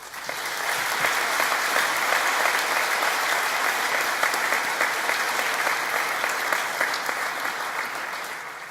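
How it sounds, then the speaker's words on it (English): Graduation audience at Newcastle College applauding teaching and support staff: a dense, steady wash of applause from a large crowd in a hall, sustained evenly for nearly nine seconds before easing slightly at the end. "Please join me in applauding all those people who've helped to make your achievements."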